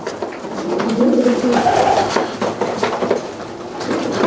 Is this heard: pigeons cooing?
yes